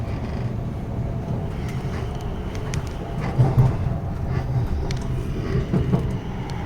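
A train rolls steadily alongside steam locomotive 70016 on the approach into Basingstoke, giving a continuous low rumble heard from inside the carriage with faint clanks and no voices.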